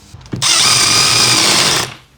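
After a few small clicks, a drill whines loudly and steadily for over a second driving a 1 5/8 inch screw, then spins down and stops.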